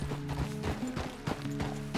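Horse hooves clip-clop in Red Dead Redemption 2, a steady rhythm of close, distinct hoofbeats with low engine-like tonal bands underneath and no talk.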